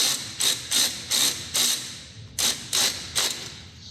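Ratchet wrench clicking in short bursts as a bolt is tightened on the starter motor of a Vauxhall Opel Astra, seven or eight quick rattling pulls with a brief pause midway, close and fairly loud, no talking.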